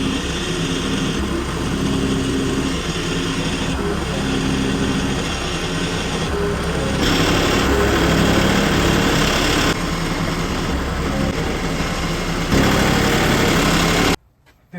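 A small engine is cranked and settles into a steady, loud idle that runs unbroken at close range, a rough droning hum, before it suddenly cuts off at the very end.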